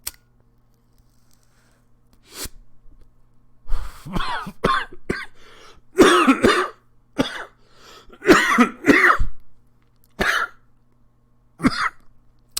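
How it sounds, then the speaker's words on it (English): A person coughing after smoking cannabis, several harsh separate bursts and throat clears spaced across a quiet room, close and loud. "I cough like that"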